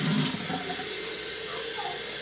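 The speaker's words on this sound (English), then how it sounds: "I'm going to fill this up with water." Tap water runs steadily into a glass jar in a home kitchen, a continuous broadband splashing rush that holds at the same level throughout, close to the microphone with no talking.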